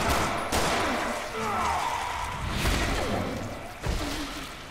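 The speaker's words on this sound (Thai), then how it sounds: "ให้มอยล่ากล้ายิงปืนอีกครั้ง" Several sharp, booming gunshots in Resident Evil Revelations 2 ring out a second or two apart, with whooshing and muffled impacts between them.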